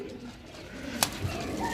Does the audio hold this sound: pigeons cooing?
yes